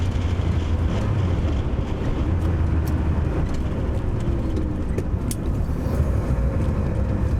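Porsche 911 SC with a 3-litre flat-six of 180 to 200 horsepower driving along a road, a steady low engine drone mixed with tyre and road rumble, continuous and fairly loud from inside the car.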